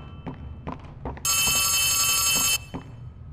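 A telephone rings once inside the horror game Poppy Playtime: a single loud, sustained electronic ring lasting just over a second, framed by scattered footsteps and thuds before and after.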